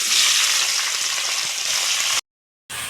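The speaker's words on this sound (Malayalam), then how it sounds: "അതിലേക്ക് നമ്മൾ തക്കാളിയും സവാളയും ഇടുകയാണ്" Tomato and onion sizzle loudly in hot coconut oil in a pan at a home kitchen, a steady close crackling hiss that cuts out briefly before resuming.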